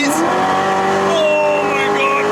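A right-hand-drive 2019 Chevrolet Corvette Z06 roars at high speed, a loud sustained engine note rising in pitch with tire and wind noise, heard from inside the cabin as a voice talks over it.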